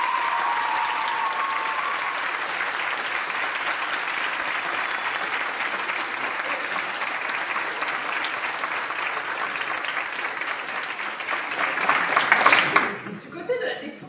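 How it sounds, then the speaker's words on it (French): A crowd applauds Amélie Bonga at a mock trial event, a long, thunderous, steady round of clapping with some laughter that swells near the end before cutting off abruptly. "un tonnerre d'applaudissements pour Amélie Bonga"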